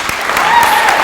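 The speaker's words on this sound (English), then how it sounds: "so I just want to give him another round of applause" Applause at a high school awards ceremony, a steady wash of clapping from the audience, heard only as a short burst.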